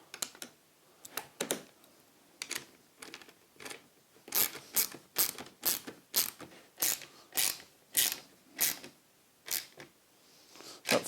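A ratchet tightens a locking nut and washer on a homemade wooden TV wall bracket, giving close, sharp clicking in quick repeated bursts that grow louder and more regular toward the end.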